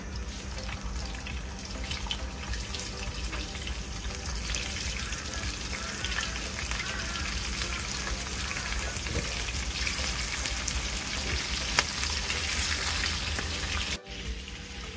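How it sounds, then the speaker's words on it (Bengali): Prawns frying in about a cup of oil in a pan, giving a steady, continuous sizzle and bubbling that stays close and fairly even throughout, with no talk over it. "মাছগুলোকে আমি এবার ভেজে নিব।"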